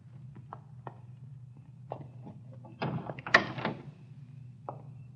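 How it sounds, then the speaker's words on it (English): A car door opens and shuts as a radio drama sound effect: small clicks and handle rattles lead to a heavier thunk and a clattering close near the middle, with light shuffling after. "Easy on the door when you get out."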